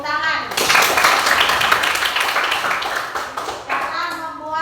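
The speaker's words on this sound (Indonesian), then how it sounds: "tepuk tangan" A classroom of children clapping their hands together, a dense burst of claps lasting several seconds, loud and close, with young voices chattering underneath.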